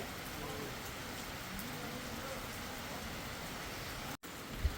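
Rain falls on a shed roof on a mountain pilgrimage route, a steady soft patter and hiss that stays even and fairly quiet throughout, with a brief dropout near the end.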